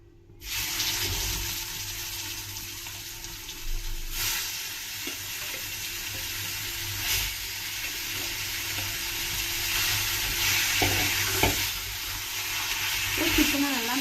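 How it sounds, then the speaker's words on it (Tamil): Chicken frying on medium flame with curry leaves and fennel seeds gives a continuous loud sizzle with a hissing, watery texture, plus occasional stirring clicks and scrapes in a pan. "பத்து நிமிஷம் மீடியம் ஃப்ளேமில் இப்படியே ஃப்ரை பண்ணிக்கோங்க"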